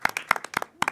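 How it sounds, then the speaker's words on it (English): A small audience clapping for a speaker, a short burst of separate sharp claps close by, a handful of hands rather than a full crowd. "So if you just give him a quick round of applause"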